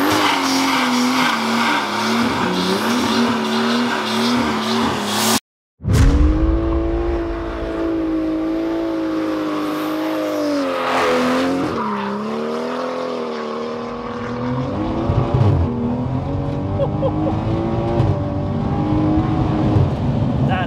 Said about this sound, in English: We'll hop in, get it fired up,